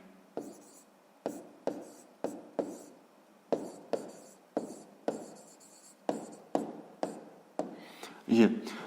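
A pen writes an answer to a fifth-grade maths exercise, making about a dozen crisp, close scratching strokes in a quick, uneven rhythm, each a short separate burst.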